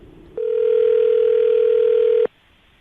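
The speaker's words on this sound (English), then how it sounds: "we're gonna give him a call right now" A steady telephone dial tone from a morning radio show's studio line before a call, one continuous loud tone lasting about two seconds that then cuts off, no dialing tones or talk.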